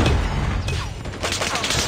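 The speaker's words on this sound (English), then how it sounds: "Predator missile inbound." Predator missile strike in Call of Duty Mobile gameplay, a dense rumbling blast and debris roar filling the short stretch, loud and close with a shrill high whine over it.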